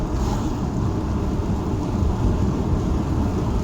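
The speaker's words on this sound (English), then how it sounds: "even with the rain coming down the way it is, and it's going to get some rain in my car here" Rain pours on a car at night, heard from inside as a steady, dense hiss and patter with a low rumbling undertone throughout.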